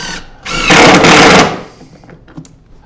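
A power drill drives a 1¼ inch screw to mount legs for a table saw outfeed, one loud close whirring burst of under a second, then quiet handling clicks.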